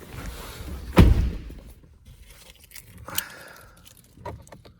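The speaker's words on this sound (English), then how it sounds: "Flip style key, 2 keys equipped." Flip-style keys for a 2018 Ford F-150 XLT jangle and clink briefly up close after a dull thud, followed by a few faint rattles and small handling noises.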